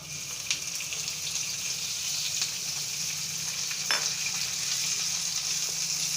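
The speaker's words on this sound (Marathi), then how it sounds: "इथे बघा या स्टेजला येईपर्यंत कांदा परतून घ्यायचा आहे आता त्यामध्ये तेल टाकून घेते मी" Onion frying in oil in a pan for egg tawa masala, giving a steady, close hiss and sizzle throughout with a few faint stirring scrapes and no talk.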